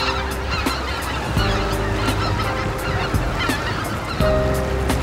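Cranes honk repeatedly from a river sandbar at Bonpo, a loud overlapping chorus of calls from a large wintering flock, with no talking.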